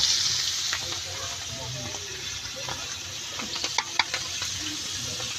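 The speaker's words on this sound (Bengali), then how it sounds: "মাছগুলো ভাজা হইতেছে, ভাজা হইলে তারপরে রান্না করা হবে।" Fish frying in a pan outdoors at a picnic gives a steady sizzling hiss with scattered sharp crackles and pops, loudest near the end.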